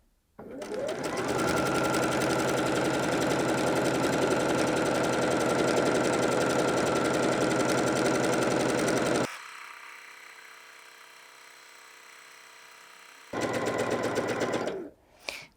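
A Bernette b77 sewing machine does free-motion stitching with a loud, steady, fast-running whir for about nine seconds. It then stops and starts again briefly near the end.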